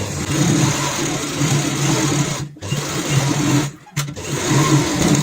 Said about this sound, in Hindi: हमने यहाँ पे निशान लगाया है इसी के ऊपर हम सिलाई लगाते हैं